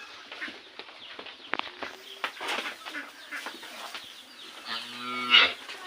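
A cow moos near a rural mud house while her calf drinks milk, giving one loud, drawn-out low call near the end, with scattered chicken clucks and faint bird chirps around it.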